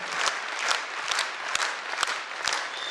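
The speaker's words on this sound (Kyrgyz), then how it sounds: "достук кыздары Дилкумар, Динара, Гүлзинага кол чабуулар болсун." An audience at a talent concert applauds with dense, sustained clapping that stays loud and even throughout, with no talk over it.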